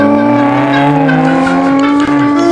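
A 6000 cc car is revved hard at racing speed, with a loud, steady, close engine roar that holds a sustained harmonic whine, alone.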